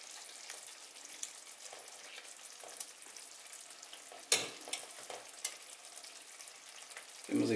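Butter sizzling softly in a hot pan while Turkish menemen is being made, a steady faint crackle with a few light clicks and a stronger scrape near the end.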